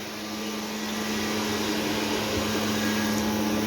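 A blower cleaning a downstairs area drones as a steady, loud broadband whoosh with a low hum underneath, continuous and unbroken from start to finish, with no voices.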